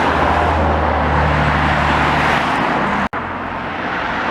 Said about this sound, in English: 2 lanes of traffic on either side.